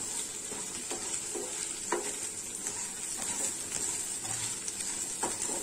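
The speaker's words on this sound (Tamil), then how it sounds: "மிக்ஸ் பண்ணி விட்டுட்டு ஒரு 5 நிமிஷம் நல்லா ஃப்ரை பண்ணி எடுத்துக்கலாம்." Colocasia (taro) pieces coated in masala are stirred in a frying pan, giving a continuous hissing sizzle broken by soft repeated scrapes and clinks of the spoon.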